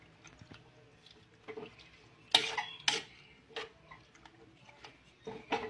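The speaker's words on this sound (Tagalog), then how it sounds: "At haluin natin ulit." A spoon stirs pakbet salad with nata de coco and kaong in a bowl, giving sparse, quiet scrapes and clinks with a few louder knocks and short pauses between them.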